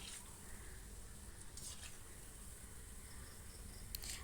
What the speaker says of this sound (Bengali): বাকি বড়াগুলো ভেজে নেব একই রকমভাবে